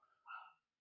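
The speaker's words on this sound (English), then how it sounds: "excuse my dog in the background if you can hear" A single short dog bark in the background of an indoor home setting, faint and somewhat distant, a brief clipped yip rising and fading within half a second amid near silence.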